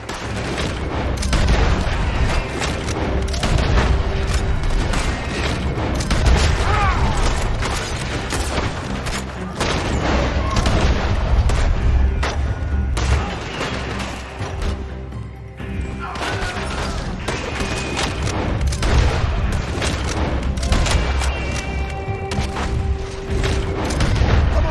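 Sustained gunfire with booming explosions during a shootout around an oil wagon in Red Dead Redemption 2, dense and loud throughout with crashing impacts and shouting voices mixed in.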